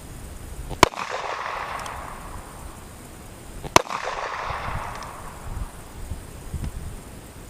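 Two sharp, loud gunshots ring out about three seconds apart from a Ruger Vaquero .45 Colt revolver with a 4.5-inch barrel firing 250-grain cast bullets at a polyurea target outdoors, each with a trailing echo over wind noise.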